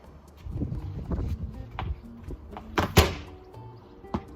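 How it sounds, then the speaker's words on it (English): Cricket ball struck during backyard batting practice, banging against a neighbour's wooden fence with one sharp loud thud near the end, after softer scattered knocks and shuffling sounds. "made a pretty loud bang on the neighbour's fence"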